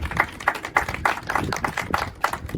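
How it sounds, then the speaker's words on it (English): A small group at a business ribbon cutting claps for ambassadors, close and fairly quick with an even rhythm of sharp hand claps. "If we could give them a round of applause as well."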